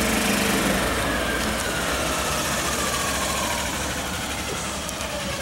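Small golf cart engine buzzing steadily while driving, a constant high whining drone with faint pitch shifts, close and continuous, no voices.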